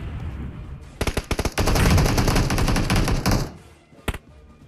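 Rapid automatic gunfire in PUBG Mobile, a loud close burst of a few single shots that swells into a sustained stream of fire, then a final lone shot.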